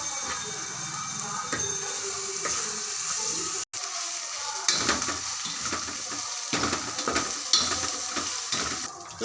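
Ginger garlic paste fries with softened onions in a pan for chicken biryani, a continuous bright sizzle with scraping stirs and small clatters, steady and close throughout.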